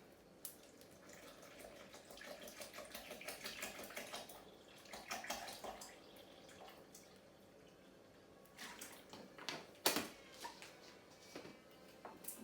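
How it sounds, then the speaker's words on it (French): Water poured into a container while making a baobab and mint drink, a steady splashing, trickling pour that swells and fades in bursts over several seconds, close by and fairly quiet, with no talking. "and then add water."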